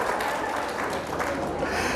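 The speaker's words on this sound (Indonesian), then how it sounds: "Tepuk tangan untuk semua." An audience at an Islamic religious lecture breaks into applause, a dense wash of clapping from many people held at a steady level for the whole moment.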